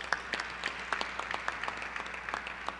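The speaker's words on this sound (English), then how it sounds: "Let's give him a round of applause" Audience applause at the opening of a university biocontainment lab, a steady, moderate patter of many hands clapping at some distance for nearly three seconds.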